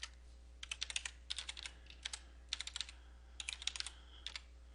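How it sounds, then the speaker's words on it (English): Quick clusters of keystrokes on a computer keyboard, close and clear, in short bursts separated by brief pauses over a low steady hum, no voices. "You would type this in."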